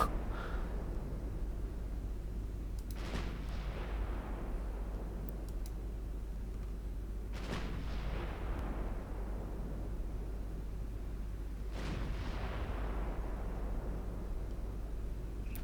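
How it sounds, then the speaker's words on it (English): Six-inch naval guns fire in the warship game Ultimate Admiral Dreadnought: three spaced, rumbling booms that fade slowly over a constant low engine drone, with no voices. "the 6-inch guns are joining in"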